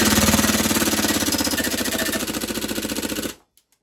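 Vorsk VMP1 gas airsoft gun firing full auto, a rapid loud rattling burst of shots lasting over three seconds that cuts off abruptly as the gas runs out, followed by a couple of faint clicks.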